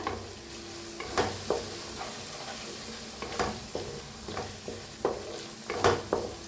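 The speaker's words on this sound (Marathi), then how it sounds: "आता मसाला छान असा भाजून घेऊया तेलात" Ground spice masala with asafoetida and bay leaf roasting in hot oil, a steady sizzle punctuated by regular rhythmic spatula scrapes against the pan, close and clear, no voices.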